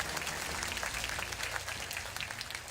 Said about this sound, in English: a big round of applause for the Democratic Republic of Timor-Leste.